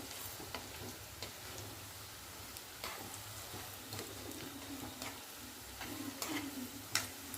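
Moong dal dumplings fry on a gas stove for a Marathi-style rassa bhaji, giving a steady soft sizzle with scattered light clicks and ticks. A couple of sharper taps come near the end, and no one speaks.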